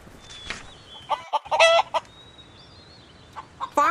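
Chickens cluck and a rooster crows at a farm's chicken coop in a Berenstain Bears children's story app, with short, bright clucks in scattered bursts over light background birdsong, close and clear, with no talk.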